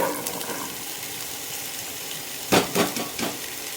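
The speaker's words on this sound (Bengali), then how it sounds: "এখানে ফুলকপিটা একটু ভাজা হয়ে এসছে" Cauliflower and mixed vegetables fry in hot oil in a pan for vegetable dal, a steady close sizzle, then a few sharp clatters of a spoon stirring against the pan near the end.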